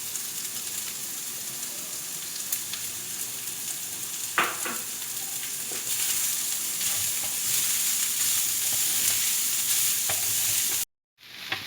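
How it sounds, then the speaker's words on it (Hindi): Chopped capsicum, carrot and cabbage for a chicken samosa filling fry in a hot pan with a steady, close sizzle and stirring scrapes throughout, a couple of sharper clatters midway, then the sound cuts off briefly near the end. "इसको बस हम 2 से 3 मिनट इसी तरह से फ्राई करेंगे।"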